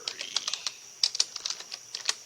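Fast typing on a computer keyboard, a quick irregular run of close, crisp key clicks with no talk.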